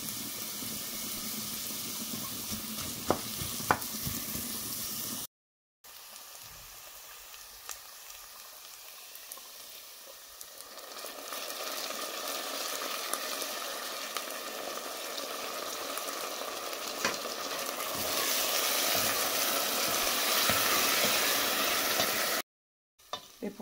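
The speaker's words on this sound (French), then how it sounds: "Donc je vais faire sauter les oignons." Onions sautéing in a pan for a shrimp sauce served with fish rice give a steady, close sizzling hiss that swells louder midway and continues without any talk.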